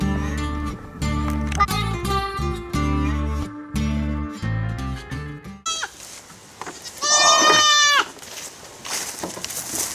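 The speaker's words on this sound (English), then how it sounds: "let's get these goats out of here" Loud goat bleats ring out near the end, several wavering cries, after a stretch dominated by music-like tones.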